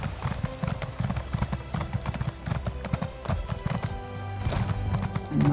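Rapid clip-clop of hooves from a horse in The Elder Scrolls Online, a quick trotting rhythm up close, followed by a brief horse whinny near the end.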